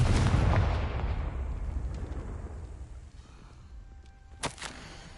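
A fiery Confringo spell blast in Hogwarts Legacy booms out loudly at the start and rumbles away into a long fading tail, followed by a brief sharp crackle near the end.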